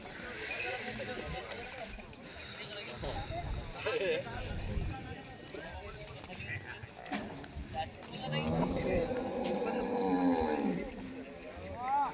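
Murrah buffaloes and cattle low and moo amid a busy outdoor crowd at the Pusad bullock market, with people talking throughout and scattered shuffling and hoof sounds nearby.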